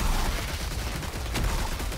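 Rockets firing in the Uragun video game: a dense, continuous barrage of rapid launches and blasts filling the whole stretch, loud and close, with no voices.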